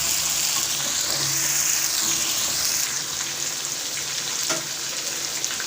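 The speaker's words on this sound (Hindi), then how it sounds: "अब हम ये चिकन निकाल के बाकी का जो चिकन है उसको भी इसी तरह ही फ्राई कर लेंगे।" Chicken pieces for chicken tikka masala fry in a pan in a home kitchen, giving a steady, close, bright sizzle that fills the whole stretch with no talking.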